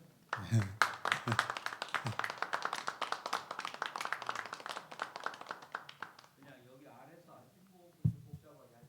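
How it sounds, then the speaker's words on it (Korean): An audience at a preaching seminar claps to welcome the pastor, with brisk, fairly close hand clapping that runs for several seconds and then fades under a voice speaking. "이 시간 우리 목사님 나오실 때 박수로 환영하실까요?"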